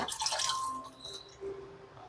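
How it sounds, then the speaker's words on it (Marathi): A thin stream of water pours briefly and trickles into a pot of thin kadhi curry, fading out into quiet kitchen ambience. "तर जेवढं पाणी पाहिजे"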